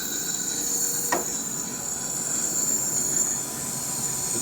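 A lab nebulizer runs with a steady mechanical hiss and hum, with a high-pitched whine on top and a brief click partway through.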